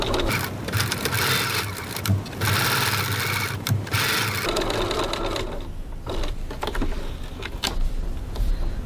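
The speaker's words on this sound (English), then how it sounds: "now we're going to top stitch along the top curved edge of our coin pocket" Sewing machine running steadily as it top stitches close to the curved top edge of a fabric coin pocket for a snap wallet, a continuous fast needle whir with a brief slowdown partway through, close and alone.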